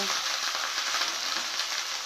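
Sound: sliced okra frying in oil with turmeric

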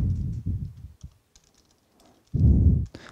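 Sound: typing an SSH key on a computer keyboard

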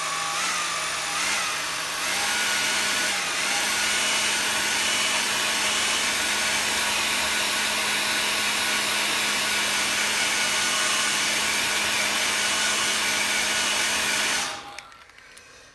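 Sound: hair dryer drying watercolour paint

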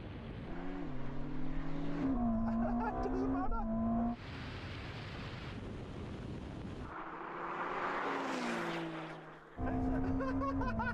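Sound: Ferrari SF90 and Porsche 911 Turbo S launching in a drag race

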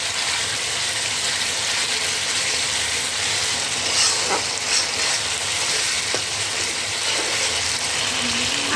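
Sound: frying ginger and green chilli paste with garlic

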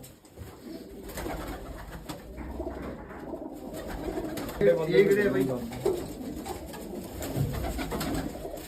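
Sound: pigeons cooing

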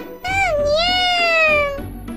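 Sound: cat meowing

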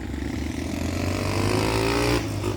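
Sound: many motorcycles passing on a bridge

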